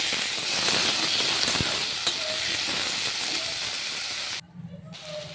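Potatoes and eggplant fry in hot oil tempered with nigella seeds, giving a loud, steady sizzle with faint stirring ticks that drops away sharply near the end.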